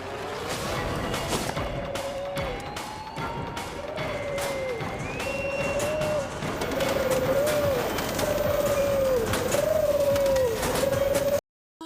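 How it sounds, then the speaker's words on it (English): A pigeon coos repeatedly in the Invader Zim cartoon, a rhythmic series of warbling calls over a busy background of thumps and clatter, ending in a sudden cut to silence. "Dib gets chased by some unseen pigeon monster"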